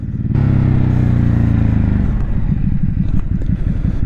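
Ducati Hypermotard 950 motorcycle engine, a loud, close throbbing roar that surges briefly and then settles into a lumpy, pulsing idle-like rhythm, with no talk over it.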